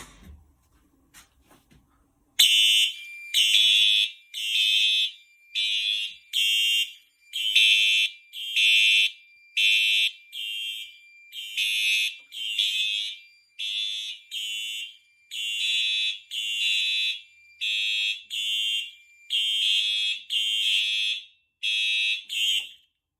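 Potter PFC-4064 fire alarm panel set off by a pull station, sounding a loud piercing horn in a regular repeating pattern of short pulsed bursts after a brief faint click, continuing for about twenty seconds.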